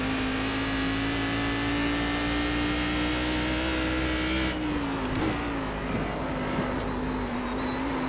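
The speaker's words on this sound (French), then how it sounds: "Je reste à fond de 4 avec un tout petit peu de rupteur." A race car engine in the iRacing sim held flat out in fourth gear near the rev limiter, a loud, steady high-revving drone that wavers briefly midway before holding constant again, with no voices.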